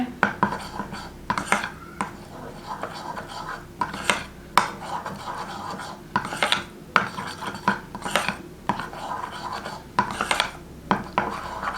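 Spoon or utensil mixing a homemade tomato puree face pack in a bowl, with repeated scraping, clinking and stirring strokes in an uneven rhythm, close and moderately loud.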